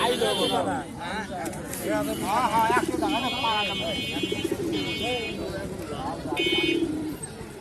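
Pigeons, including Sirazi pigeons, coo repeatedly under a voice talking, with busy pigeon-market background chatter and occasional bird chirps.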